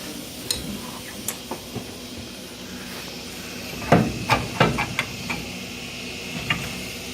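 A hammer smacks a bolt out of a rear lower control arm on a 1968 Ford Thunderbird, sharp metallic strikes spread out at first, then a louder cluster of blows near the middle, ringing in a workshop.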